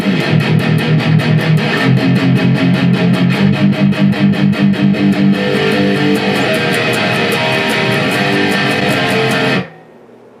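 A heavily distorted electric guitar chugs through a palm-muted riff, loud and dense with steady rhythmic pulses, before cutting off abruptly near the end.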